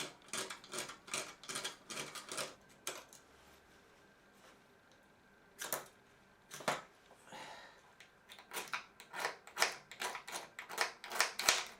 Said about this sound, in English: Then I'm going to scrape some hexamine from one of the other tablets.